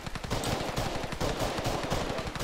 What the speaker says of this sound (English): we got someone shooting down there